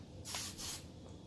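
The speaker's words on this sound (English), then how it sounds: "and then hairspray your poof so that it doesn't move" Hairspray is sprayed onto a teased poof hairstyle in two quick, close hissing bursts separated by a short pause, then quiet.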